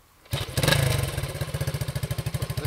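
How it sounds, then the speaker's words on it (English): A 1972 Honda SL125 motorcycle engine catches and runs, a sudden loud start settling into a rapid, even single-cylinder exhaust putter, close by with no talk. "Listen to that exhaust note on this thing."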